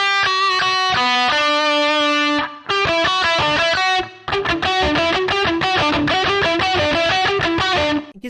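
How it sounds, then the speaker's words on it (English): Distorted electric guitar played through a Quad Cortex with a subtle room reverb, loud chords and riffs in short phrases separated by brief gaps, with no voices. "Really subtle room reverb that kind of widens it."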